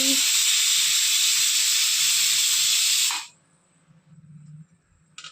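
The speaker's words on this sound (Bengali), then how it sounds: "আমার বেগুনি ভাজা কড়াই" Eggplant fritters (beguni) fry in hot, spattering oil in a kadai with a loud, steady sizzling hiss for about three seconds. The hiss then cuts off abruptly, leaving faint background noise.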